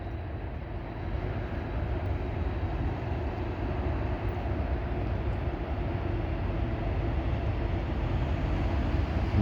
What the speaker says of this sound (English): we have a loaded coal train, should be through here any second